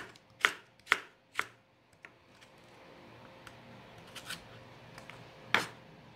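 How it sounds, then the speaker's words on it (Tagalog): Knife chopping celery on a cutting board during home cooking of nasi goreng: four sharp, close cuts in quick succession, then fainter scattered taps and one more loud chop near the end, with no voices. "Susunod natin hiwain ang celery."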